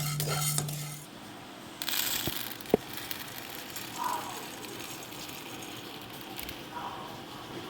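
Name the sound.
roasting toor dal in a pan, stirring with a spoon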